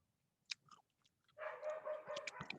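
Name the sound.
dog barking in the background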